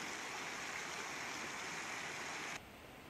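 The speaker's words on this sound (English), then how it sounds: "There's the waterfall." A waterfall in Bear Canyon near Tucson roars as a constant broadband rush of falling water, heard from a distance, then drops abruptly quieter near the end.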